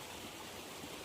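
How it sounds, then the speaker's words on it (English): A large waterfall in Scotland roars as a steady, dense rush of falling water, continuous and fairly loud, with no voices or other sounds over it. "There's a big waterfall behind me there"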